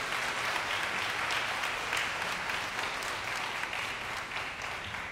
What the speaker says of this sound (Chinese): 大家也给她鼓掌一下